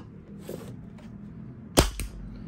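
Action Army AAP-01 airsoft pistol firing a single sharp crack followed by a quick second snap, close up against a quiet background, with soft faint clicks before it.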